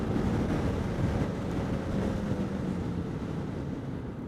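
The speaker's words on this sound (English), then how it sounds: "Man, it is some windy." Continuous low rumble of wind hitting the microphone, a steady blustery roar throughout with no voices.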